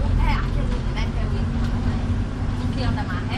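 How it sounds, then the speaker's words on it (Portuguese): A refrigerated truck rumbles past behind people talking outdoors on a rural road, its low engine drone steady under the voices at moderate distance. "Atrás da gente vê um caminhão."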